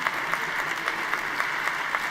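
Delegates at the PES Congress 2025 applauding to approve candidates, a continuous hall-filling patter of many hands clapping with faint rhythmic surges, heard alone without speech.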